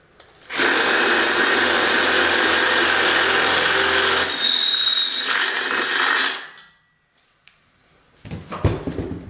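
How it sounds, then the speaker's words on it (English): A power drill with a half-inch bit whines loudly for several seconds as it bores a switch hole in a Casablanca ceiling fan part, its pitch shifting partway, then stops, followed by brief clattering handling noises. "now we're going to use a 1/2 inch drill bit to drill out for where the switch will go."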